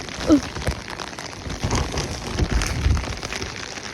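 Steady rain patters on a surface with gusty wind, a broad hiss with occasional louder bursts and low rumbles.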